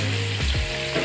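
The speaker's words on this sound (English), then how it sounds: "And our grill is pretty hot." Chicken sizzles and fries on a very hot grill, a steady close hiss that stays loud and even throughout, with no talking.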